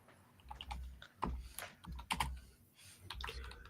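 Quiet clicking of typing on a computer keyboard set to Hebrew, with irregular bursts of keystrokes and a few louder taps, close by and alone.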